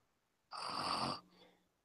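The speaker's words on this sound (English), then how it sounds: "Is somebody pretending to snore?" A single loud, rasping snore lasting most of a second, followed by a fainter, softer exhale, heard close with no talking around it.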